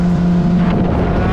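A rebuilt 2021 Kawasaki ZX10R motorcycle engine with a warning light and a faulty quick shifter runs at a steady loud idle, its low hum constant and close, with wind noise on the microphone.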